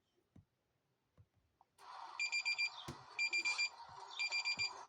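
An alarm clock tone sounds in three repeated groups of rapid beeps over a continuous buzzing drone, loud and close, after a few faint knocks and clicks.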